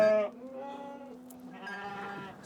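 A Navajo sheep bleats close by, first in a short loud cry, then in a longer wavering call.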